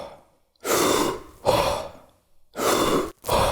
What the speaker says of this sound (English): You'll maybe take 3 full breaths in the catch